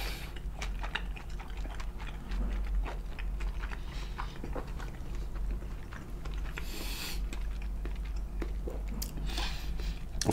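Soft, close chewing and biting of vegan sushi, steady and wet-sounding at low volume, with occasional small clicks and mouth noises and no talking.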